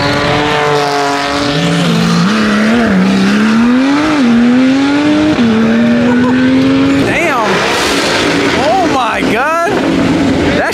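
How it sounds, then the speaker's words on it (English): Turbocharged cars race past in loud flybys, engine notes rising and falling with tire squeal, while people talk excitedly over the roaring passes. "people are just doing flybys at this point"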